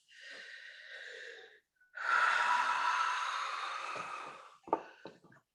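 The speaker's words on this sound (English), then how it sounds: "Nice deep breath." A slow, deep breath drawn in and released through the mouth, airy and close, with a short breathy catch after it; a quiet pause sits between the inhale and the long exhale.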